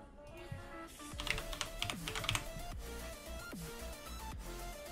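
Computer keyboard keys click in a quick, close run of taps that thins out toward the end, over a low steady hum with no voices.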